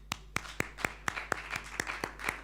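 A single person clapping at a digital expo, about ten crisp, evenly spaced claps in a steady rhythm over quiet room tone, fairly close.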